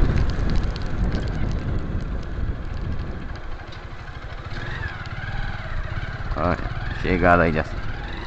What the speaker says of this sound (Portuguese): Olha a chuva, pessoal.